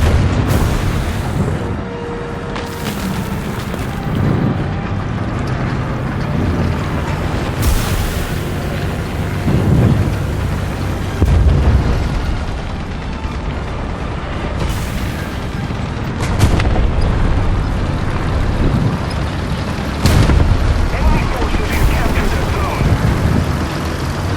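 Heavy bomb blasts from aircraft ordnance in War Thunder boom out at intervals, several loud deep explosions breaking over a continuous game din, with a player talking at times.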